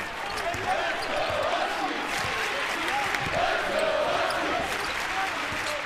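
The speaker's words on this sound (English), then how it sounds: "Crowd a bit restless right now here." A restless crowd at a college basketball game in an arena keeps up a steady murmur, with ball bounces and squeaks scattered through it. A commentator speaks over the noise.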